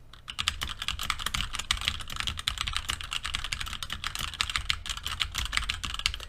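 Rapid, continuous keystrokes bang on a computer keyboard with bursts of WASD gaming presses, crisp clicks recorded up close through a HyperX QuadCast S USB condenser microphone, with no voices.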